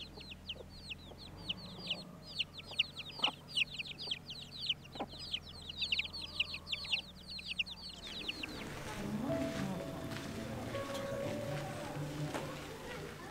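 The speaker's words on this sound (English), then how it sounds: "And chickens." Chickens cluck in a farmyard livestock area on Jersey in the Channel Islands, a dense chatter of calls over the first eight seconds, then fading under a broader wash of wind and background noise.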